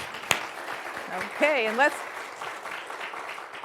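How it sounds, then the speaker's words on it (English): An audience at a city State of the City event applauds steadily at moderate volume. A voice speaks briefly over the clapping and cuts through it. "A little clap for them."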